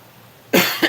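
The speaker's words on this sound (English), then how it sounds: "just a second, I'm going to cough." A person coughs twice close to the microphone, a sharp loud burst followed by a shorter second cough, with quiet room tone before.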